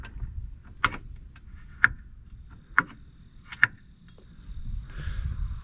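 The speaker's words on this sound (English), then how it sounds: "One thing I really like about this is the sound of it when it disengages. Listen to this pop." Four sharp, distinct pops from an Apex 5500 UTV winch clutch disengaging on a Polaris RZR 1000XP, spaced about a second apart over a quiet background.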